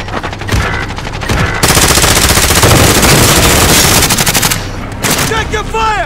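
Call of Duty Warzone machine gun fire: a loud, sustained automatic burst with rapid overlapping shots, framed by voices talking before and after.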